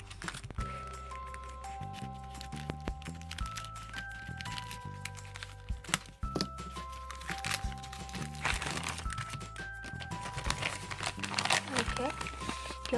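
Scissors cutting open a gift package wrapped in clear OPP plastic, heard as repeated close crinkling, crackling and snipping over about thirteen seconds, with background music throughout.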